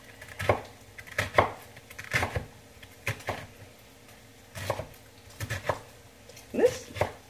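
A knife chops a small head of cabbage into bite-sized pieces on a board, irregular crisp thuds in short bursts, close, with faint talking between cuts.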